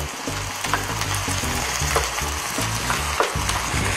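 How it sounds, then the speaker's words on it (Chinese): Soybeans fry in olive oil in a pan, giving a loud, continuous sizzle and crackle with a steady bubbling pulse close up, and no voices. "将锅中倒入橄榄油， 接下来呢，我要将黄豆放入锅中"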